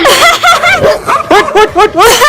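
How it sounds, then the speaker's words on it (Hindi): A dog barks loudly and close by in a quick run of sharp, yippy barks with short gaps between them. "मम्मी कुत्ता।"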